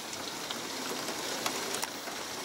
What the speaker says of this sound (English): It is pouring extremely hard.